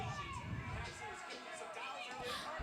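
A wrestling crowd at an NXT event cheering through a television, a broad steady roar of many voices that holds without pause.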